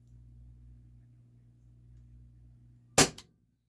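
A Walther PDP Compact T4E training pistol fires a single sharp shot with a quick blowback clack right after it. The shot cuts through a quiet background hum.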